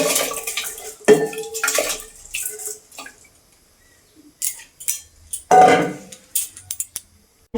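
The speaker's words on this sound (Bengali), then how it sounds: "জলটা এখন গরম হয়ে গেছে জলের মধ্যে আমি চালটা তুলে দেব" Dry rice poured into a pot of heated water on the stove for a mutton curry meal, giving a brief rattling pour and splash amid clinks of kitchen utensils, fairly close, with quiet pauses between.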